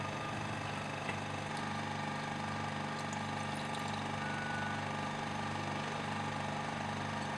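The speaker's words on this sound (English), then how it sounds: "Then let the powder dry on the pump." A vacuum pump hums steadily with a low mechanical drone while potassium phthalimide powder, washed with absolute ethanol, dries on it in a lab; the noise holds constant, close and moderate in level throughout.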